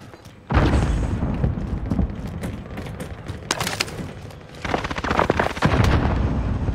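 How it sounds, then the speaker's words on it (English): Video game gunfire: sharp, loud shots and booming reports burst out irregularly, with clusters of rapid cracks and heavy thuds through the scene and no speech. "They're just shooting in general."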